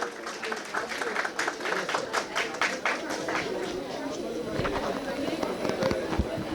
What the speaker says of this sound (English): Welcome with a huge round of applause.